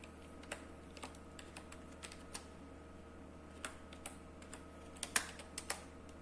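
Computer keyboard keys tapped while entering a command to convert a disk partition from MBR to GPT, scattered light clicks in an uneven rhythm with a brief quick burst near the end, faint over a low steady hum.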